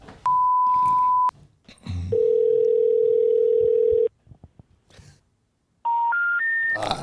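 A phone dials a 305 number: a steady tone, a long continuous dial tone, short keypad beeps, then a rising three-note intercept tone, loud and clear with brief quiet gaps between.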